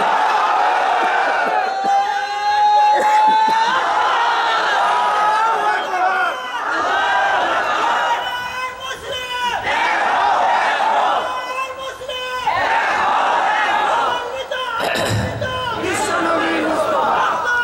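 A large crowd at an Islamic sermon gathering roars a takbir chant back to the preacher. Many voices shout together loudly in repeated surging waves, with brief dips between the calls.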